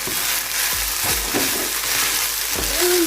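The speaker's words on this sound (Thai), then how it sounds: "คนนะคะ อย่าให้อย่าให้ข้าวไหม้ใช่ไหมคะ" Rice stirred in a frying pan, a continuous loud sizzle with several dull scraping strokes and low thumps, close up and without speech.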